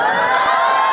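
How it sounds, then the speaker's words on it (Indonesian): An audience cheers and shouts loudly in a brief, excited burst, crowd voices blending into a bright, sustained roar with a few sharp whoops standing out. "Lihat, tepuk tangan tuh."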